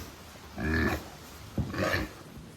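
Pigs grunting in a barn after evening feeding, two short, low grunts in succession, fairly close but soft over quiet background.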